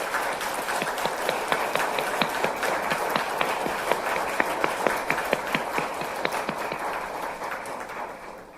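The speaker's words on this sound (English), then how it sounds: "maybe another big round of applause for Prime Minister Rasmussen," Audience applause for former NATO Secretary General and Prime Minister Rasmussen, steady moderate clapping with a crisp rhythm from a modest crowd, continuous throughout and fading slightly at the end, with no voices over it.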